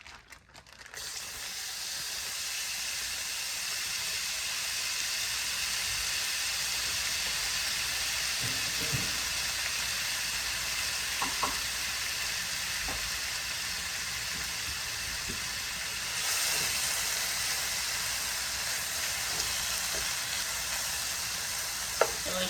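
Shrimp sizzle loudly and continuously in a hot pan, a dense, hissing fry with occasional small pops and light clicks, with no talking.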